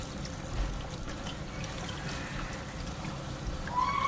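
Liquid poured into a pan while making chicken marsala, a continuous splashing, gurgling pour lasting the whole stretch, close by and without talk.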